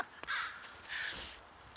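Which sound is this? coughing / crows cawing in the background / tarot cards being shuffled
crows cawing in the background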